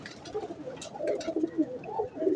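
Pigeons of a high-flying crossbred breed coo close by in soft, repeated throaty rolls, a few overlapping calls with no talking.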